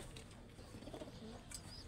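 Pigeons cooing softly in a low, murmuring rhythm, with a brief brighter call near the end, alone with no talk.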